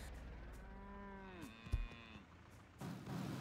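A cow on a farm in the game Wobbly Life lets out a long, clear moo with a falling harmonic tone, followed by a short thump and soft background ambience.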